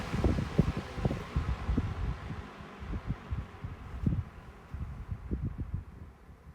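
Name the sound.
GEC Magnet and Lloydtron 16-inch desk fans spinning down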